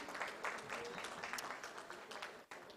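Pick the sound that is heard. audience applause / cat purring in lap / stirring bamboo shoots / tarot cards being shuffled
audience applause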